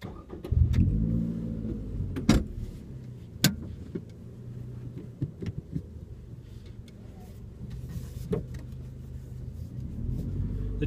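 A 2015 Scion tC with a 2.5 liter four-cylinder engine accelerates on a test drive, heard from inside as a low steady engine hum with a few clicks and bumps, no talk.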